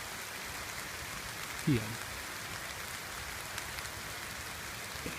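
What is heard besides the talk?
rain falling by a creek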